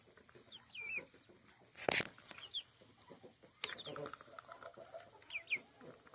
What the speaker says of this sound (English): Who's making that adorable little cheep?